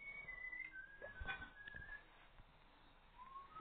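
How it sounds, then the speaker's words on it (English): A man whistling a faint, wavering melody outdoors, with a few brief sliding notes over quiet background noise. "That's my dad whistling."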